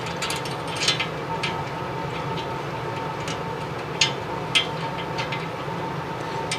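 A ratchet tightening a bolt on a Simplicity snow blower, with slow, sparse clicking of the pawl over a steady low background hum, close and alone.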